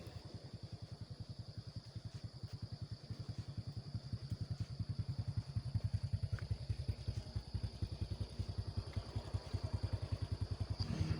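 A Honda Revo 100 motorcycle being ridden between dams in Pagerwojo, its small engine putting out a steady, rapid, rhythmic thrum close to the rider that builds slightly louder over the stretch, with no talk.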